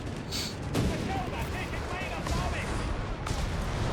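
Artillery barrage from German forces in Company of Heroes 3, a dense run of overlapping booms and crackling gunfire rolling steadily for about four seconds, with a commentator's voice mixed in among the blasts.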